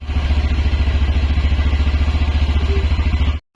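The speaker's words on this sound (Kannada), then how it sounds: "ಯಾಕೆ ಸನ್ನಿ ಬೈಕ್ ಬರ್ತಾ ಉಂಟಾ?" A motorbike engine runs with a steady, loud, rapid low thump, close by and unchanging, before cutting off abruptly at the end.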